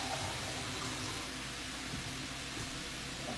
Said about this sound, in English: And I'm going to add 1 cup of water.